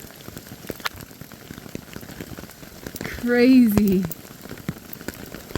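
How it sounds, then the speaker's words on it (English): Hail pelting a tent on the Grand Enchantment Trail, a steady dense patter of pretty decent sized hailstones throughout, with a short excited voice exclaiming partway through. "Now the hail is coming."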